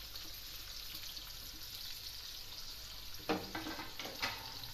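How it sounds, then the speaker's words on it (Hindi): Onions frying in a cup of oil for chicken biryani, a steady soft sizzle and crackle throughout, with a couple of brief stirring clatters near the end. "इसमें प्याज डालते हैं हम। 1 कप ऑयल है,"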